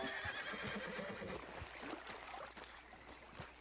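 A horse whinnies in Red Dead Redemption 2 Online, a quavering neigh up front and then fading, with soft hoof clops and faint water ambience behind it, fairly quiet overall.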